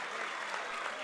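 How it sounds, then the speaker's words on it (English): Crowd at a girls' high school basketball game, Washington vs Geneseo, breaking into a brief burst of steady applause heard from a distance. "this Washington crowd is starting to come to life here"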